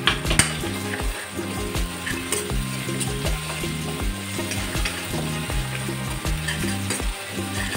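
Ground raw coconut masala sizzles as it fries in oil and is stirred, with steady frying crackle and repeated rhythmic scraping of the spoon against the pan, close and continuous with no talk.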